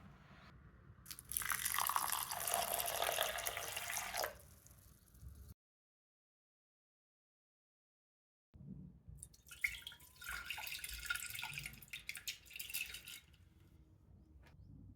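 Water splashes and sloshes against red lentils (masoor dal) in a bowl as they are rinsed, swishing in two bursts separated by a pause of silence.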